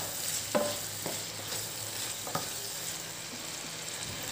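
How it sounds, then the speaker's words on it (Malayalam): Squid roast is stirred while it fries in a pan, giving a continuous hiss with a few sharp scraping knocks from the spoon, close and without voices. "ഇത് വഴങ്ങി വരുന്ന ഇടയ്ക്ക് നന്നായിട്ട് മിക്സ് ചെയ്യാം"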